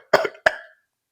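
Two sharp coughs, close and loud, one right after the other, then quiet.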